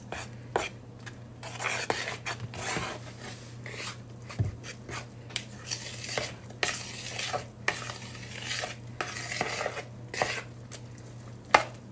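Sugar and Bisquick batter for an apple cobbler are stirred in a bowl, producing soft, irregular scraping and clinking strokes at close range with a faint background hum.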